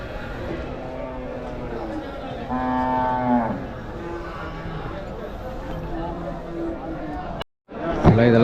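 Cart bullocks low at the Vaniyambadi open-air cattle market, one clear drawn-out moo rising above a steady hum of crowd chatter and market noise, with talk continuing around it.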